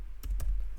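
Keystrokes on a computer keyboard while entering a terminal install command on Ubuntu, a couple of sharp clicks over a low steady hum, close and fairly quiet.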